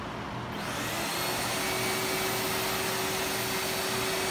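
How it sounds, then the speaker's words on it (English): A W2000/2 wet vac with a pre-separator starts up and runs steadily, a loud, constant motor roar with a broad airy whoosh and no talking. "we're basically just turning the vacuum on to pick it up"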